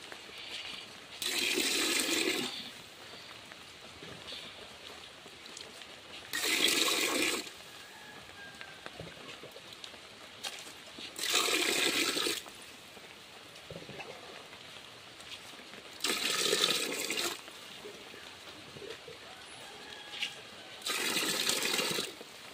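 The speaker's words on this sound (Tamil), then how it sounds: "அதே அளவுக்கு நம்ம அளந்து ஊற்றிக்கலாம்." Water measured out by the tumbler is poured into a cooking pot for a charity biryani: five separate splashing pours, each about a second long with pauses between, quiet and without talk.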